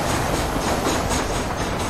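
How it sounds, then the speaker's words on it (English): A train rolling along in the video game Red Dead Redemption, a dense continuous rumble and rattle of wheels on track, loud and close, with no voices. "And now we're gonna ride a train."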